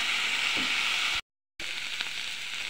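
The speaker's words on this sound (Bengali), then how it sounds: "মাছগুলো সুন্দর মতো ভাজা হয়ে গিয়েছে" Fish fries in a spice mix in a pan with a steady, bright sizzle, close and continuous, briefly cut off by a moment of silence before resuming, with no talking.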